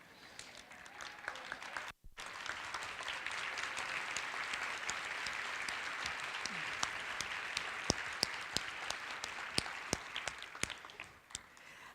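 A conference audience at a women's business event applauds at length, a sustained roar of many hands after a brief pause, with occasional sharp nearby claps standing out before fading toward the end.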